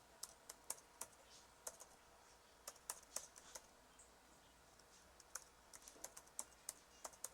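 Computer keyboard keys clicking in short irregular bursts as an email address with a @deped.gov.ph domain is typed, quiet and close with no talking.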